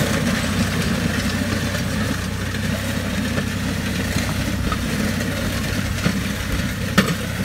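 A Ford 6640 tractor ploughs out sugarcane stumps in hard soil, its engine a steady, loud, low droning rumble that holds without a break throughout.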